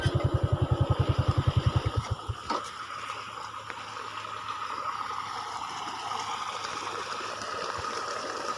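A stream of water flows past in a rural Thai countryside setting, a soft continuous trickle after a motorcycle's rapid engine putter fades out in the first two seconds.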